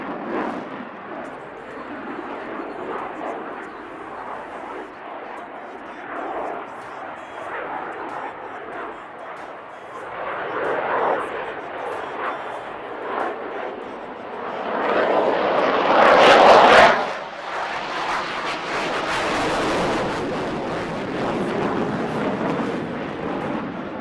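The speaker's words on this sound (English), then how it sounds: "Can you imagine such a fast aircraft carrying out such a short turn?" A fast military jet flies a minimum radius turn in an aerial display at Aero India 2025, its loud continuous engine roar swelling to a peak mid-pass before easing off, with faint crowd or commentary underneath.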